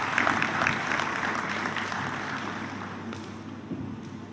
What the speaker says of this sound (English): may I invite a round of applause for them